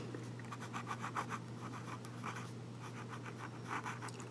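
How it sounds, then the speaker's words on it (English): A Lamy Safari fountain pen with a medium nib scratches softly across paper in quick looping strokes, a faint close rhythmic scritching over a low steady hum. "Just do a few little S's and has some good ink flow."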